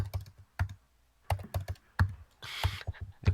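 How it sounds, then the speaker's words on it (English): Computer keyboard keys clatter in quick irregular bursts with brief pauses, close and clear, with no voices over them. "Can you guys tell what I'm typing right now?"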